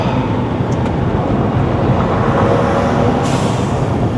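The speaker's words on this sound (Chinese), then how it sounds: "6缸就是6缸 ，7000转的宝马" A BMW X5 xDrive35i (F15) six-cylinder engine, tuned to about 390 whp, revving hard toward 7000 rpm, a loud, steady droning roar heard from inside the car on a mountain road run in Malaysia.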